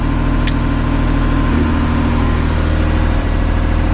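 Diesel engine of a John Deere 670G grader running steadily in forward gear during transmission calibration, a loud, close, continuous low rumble with a faint brief high tone near the start.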